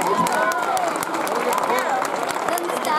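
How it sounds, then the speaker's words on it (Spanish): Festival crowd applauding the town crier at the Chinchilla fiestas queen's coronation, a dense steady wash of clapping mixed with shouts and chatter from a large gathering, loud and continuous throughout. "un aplauso para el pregonero"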